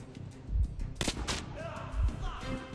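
Gunfire in Metro Last Light: two heavy low thumping shots about a second and a half apart, with sharp cracking reports and clattering mechanical sounds in between, moderately quiet overall.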